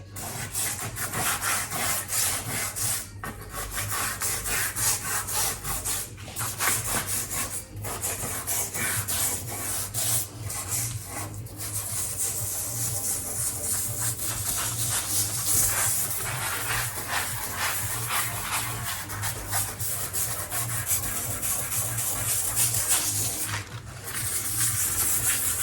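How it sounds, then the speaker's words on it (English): A wooden kitchen worktop is rubbed hard to lift black watermarks and stains, giving a continuous, close, rasping scrub with steady back-and-forth strokes and brief pauses, alone without talk. "So I'm just giving it a really good rub into the areas which are most damaged."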